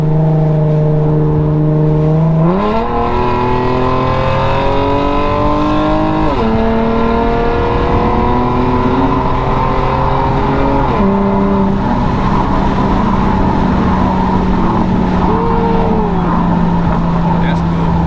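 Infiniti G37 with muffler and resonator delete, its exhaust droning loudly as the engine rises through repeated revs and falls back to idle, heard up close with people talking over it.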